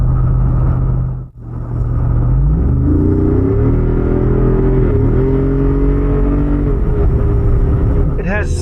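A Jeep Wrangler Rubicon 392 V8 accelerates hard, a loud deep engine roar climbing through the revs with a brief dip between gears, heard from inside the cabin.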